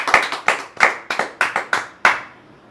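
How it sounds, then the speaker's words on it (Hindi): A studio audience at a Hindi quiz game show gives a short round of scattered hand claps to welcome a contestant, about seven distinct, fairly close claps over a couple of seconds before fading to quiet. "हम दर्शकों से चाहेंगे कि इनको तालियों से स्वागत किया जाए"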